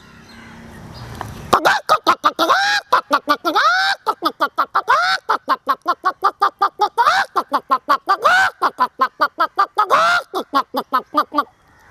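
A person mimics a hen's post-laying call: after a brief lead-in, a long run of rapid, rhythmic clucking syllables with a few drawn-out squawks, loud and close, continuing steadily for about ten seconds.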